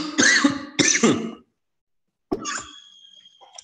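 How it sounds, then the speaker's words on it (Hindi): Two harsh coughs in quick succession, followed after a short pause by a third cough trailing into a throaty rasp, close by. "खांसी हो रही है"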